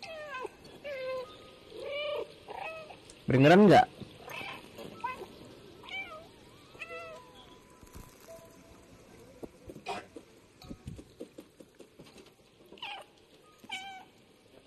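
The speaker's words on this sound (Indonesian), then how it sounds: "Bikin suara mengeong, bang." A cat meows repeatedly in the video game Stray, short plaintive mews scattered over about fifteen seconds with one loud drawn-out yowl early on, amid quiet game ambience and a brief spoken question.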